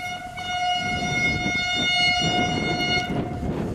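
An EVB regional train passes close by near Mulsum, its horn blaring in a long sustained chord over the rumble of wheels on the rails for the whole stretch.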